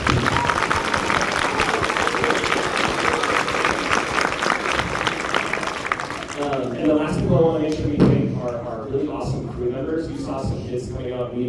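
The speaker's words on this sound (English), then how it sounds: "can you give them a round of applause?" An audience at a school band concert gives the woodwind players a loud round of applause for about six seconds, then the clapping fades as a voice starts talking over the remaining scattered claps.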